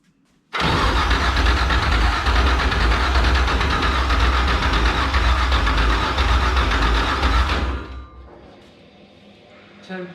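Ford Coyote V8 catching on its first start, a sudden loud roar that holds as a rough, steady idle for about seven seconds before cutting off, followed by quiet voices.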